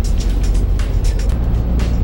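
Heavy diesel engine of a four-axle KAMAZ 5044 truck rated at 440 hp, heard from inside the cab: a steady, loud low rumble with continuous hum and faint broadband road noise, no talking.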